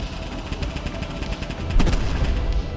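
Autocannon in the Minecraft Create mod firing high explosive shells, a dense run of rapid booming shots with a heavier burst near the end, loud and continuous without pause.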